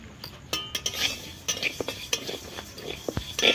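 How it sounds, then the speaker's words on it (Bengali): Moong dal being dry roasted in a wok, with a utensil scraping and clinking against the metal in quick irregular strokes, close and fairly quiet, with no talk. "তো আমরা মুগ ডালটা ভেজে নেব শুকনো কড়াই"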